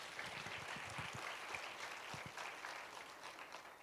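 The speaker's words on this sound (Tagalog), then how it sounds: "Pumalakpak na malakas." A church congregation claps during a sermon, a continuous wash of applause from many hands at moderate distance, fairly quiet and even throughout, with no clear speech over it.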